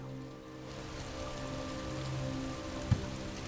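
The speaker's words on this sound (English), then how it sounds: "I could do without this damnable rain. It's been storming since we arrived" Steady rain patters on surfaces during a storm in a video game, a soft continuous hiss at moderate distance with a faint low hum beneath and one brief thump near the end.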